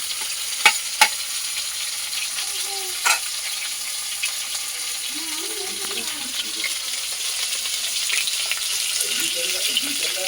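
Katla fish fries in hot oil with a continuous close sizzle, broken early by a few sharp clinks of a utensil, while faint background voices murmur underneath.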